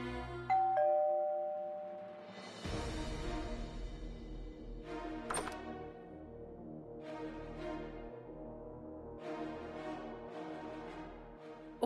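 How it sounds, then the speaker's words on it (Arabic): A doorbell in a dubbed TV drama series sounds a ding-dong chime, then rings again several times in a sustained, repeated pattern, fairly loud and alone with no speech. "صار لي ساعة عم دق الجرس"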